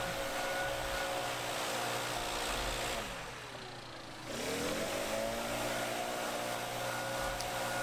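A leaf blower blasts gravel off grass toward a parking lot, a loud steady roaring whoosh close by that dips briefly in pitch and volume as the nozzle moves, then surges back.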